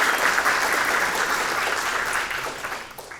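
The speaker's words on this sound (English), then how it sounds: "let's give them all some applause" Audience at the Yale 3-Minute Thesis final applauds the finalists, a full, even burst of clapping from many hands that tapers slightly toward the close.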